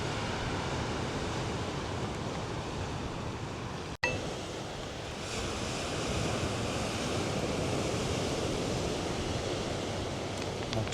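Waves breaking against a rugged, rocky coastline near Lagos, Portugal, a steady broadband wash of surf with wind buffeting the microphone, one brief dropout midway, no talking.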